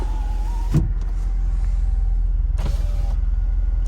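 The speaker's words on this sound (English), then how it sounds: "And let's check our windows." Car power windows whir up and down in two distinct motor runs during a check at a dealers-only auction, with an engine idling low underneath.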